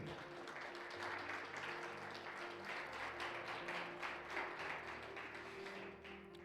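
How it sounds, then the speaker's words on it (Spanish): A church congregation applauds in a steady, faint wash of many clapping hands during a Spanish-language sermon, a low organ or keyboard tone sustained underneath. "Dale un fuerte aplauso a Cristo"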